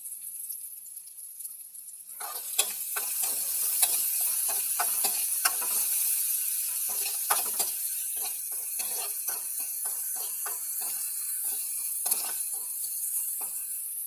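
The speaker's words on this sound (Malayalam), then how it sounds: "എന്നിട്ട് അതിനാവശ്യമായ ഉപ്പ് ഇട്ട് നമ്മൾ അതൊന്ന് ചെറുതായിട്ടൊന്ന് വഴറ്റി കൊടുക്കുക തന്നെ ചെയ്യണം." Food being sautéed with salt in a pan, a steady bright sizzle that keeps going under frequent scraping clicks of a stirring utensil, close and continuous, with no talk.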